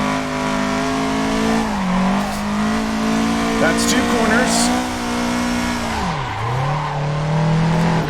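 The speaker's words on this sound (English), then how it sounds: "Hold the handbrake, brake the car free." A car drifts round a track corner with the handbrake pulled, its engine droning steadily while the tires skid and squeal, the revs dipping and rising again near the end, with someone talking over it.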